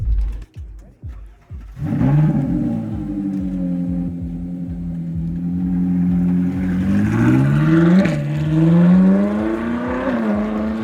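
A Ferrari 458 Challenge race car pulls out of a track's pit lane, its loud engine revving up through the gears with rising, climbing pitch, held close and continuous after a few brief starting bursts.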